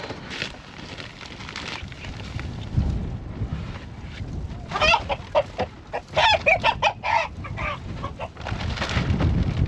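Chickens and roosters in a coop during an ice storm in southwestern Kentucky, clucking and squawking in a close, busy burst of calls after a quieter stretch of low rustling.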